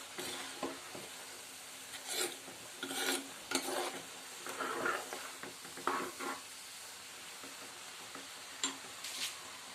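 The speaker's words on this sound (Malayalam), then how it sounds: "ഇങ്ങനെ ഇടയ്ക്കിടയ്ക്ക് നന്നായിട്ട് ഇളക്കി കൊടുക്കണം കേട്ടോ നല്ല ഡ്രൈ ആകുന്നിടം വരെ ഇങ്ങനെ ഇളക്കുക" Bitter gourd thoran stirred in a pan while drying out: intermittent scraping and rubbing strokes of a spoon against the pan over a faint sizzle, close and moderately loud, with no speech.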